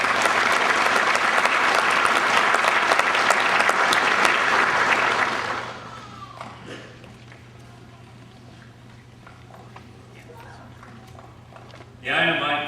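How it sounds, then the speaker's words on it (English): Loud, sustained applause from a graduation ceremony audience fills the first half, then drops off to a low hum of room noise, with a brief voice near the end. "Please join me in a round of applause for Captain Hine."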